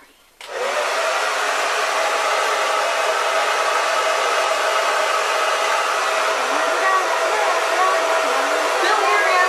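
A hair dryer switches on and blows steadily, a loud, constant whooshing roar with no pauses.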